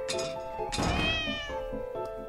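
A cat meows repeatedly in The Cat Lady video game, drawn-out plaintive calls over a steady low musical drone, close and clear with no speech.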